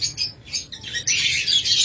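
A breeding pair of lovebirds chirps in short, bright bursts, close and fairly loud, with rapid tweets running together into a sustained twittering near the end.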